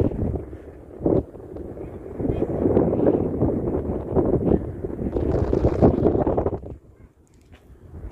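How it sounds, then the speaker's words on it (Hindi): Strong outdoor wind buffeting a microphone on a sandy roadside, a loud, continuous rushing roar that swells and fades, easing off near the end. "हवा चल रहा है"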